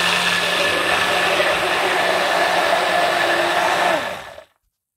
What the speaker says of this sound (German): als erstes püriere ich hier unsere lila Süßkartoffel mit der Milch.